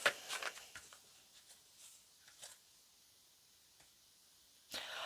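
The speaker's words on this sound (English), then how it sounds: "Okay, let's do a little shuffling here." Oracle cards being shuffled by hand, heard as soft, close riffling bursts and light papery flicks at the start and again at the end, with faint rustling between.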